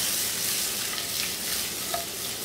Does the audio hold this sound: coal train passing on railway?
no